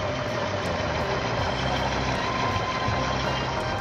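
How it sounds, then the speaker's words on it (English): A restored 1957 Ford Fairlane 500 convertible engine idles smoothly and steadily, a dense, constant close mechanical hum with no variation or voices. "Smooth running motor."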